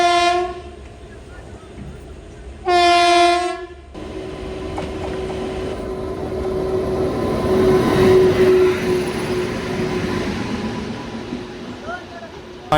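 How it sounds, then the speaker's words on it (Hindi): The Malwa Express passes a railway station in India: two loud train horn blasts ring out, then a long, loud rumble and clatter of the passing train, with voices faintly underneath. "मालवा एक्सप्रेस जो है वो आ रही है"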